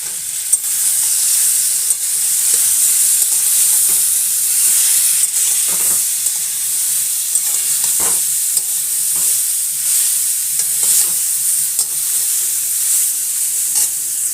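Pieces of elephant apple sizzle and fry steadily in hot oil spiced with dried red chillies in a pan while making a pickle, a continuous close, loud crackling hiss with occasional stirring and no talk.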